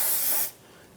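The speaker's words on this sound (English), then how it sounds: "Give that a spray with some solvent to clean up some of that residual brake fluid." Solvent sprayed in a steady pressurised hiss onto the brake bleeder drain port of a 1992-1996 Toyota Camry to clear residual brake fluid, loud and close for about half a second before cutting off to quiet.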